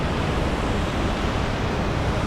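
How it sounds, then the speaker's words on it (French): A waterfall in Iceland roars continuously nearby, a loud, broad rushing wash with no breaks. "Bon là on a une cascade incroyable."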